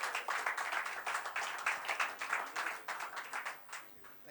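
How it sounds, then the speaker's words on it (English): A round of applause from the audience at a tech-day event in a hotel, honoring a sponsoring computer company: many hands clapping, with distinct claps standing out in a lively, slightly uneven rhythm that stays fairly close and loud. "A round of applause again, please,"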